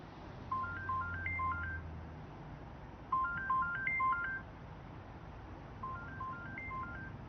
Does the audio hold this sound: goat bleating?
no